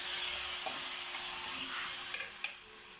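Salmon fries in a pan for adobo, a steady close sizzle with a few sharp pops and spatters near the end.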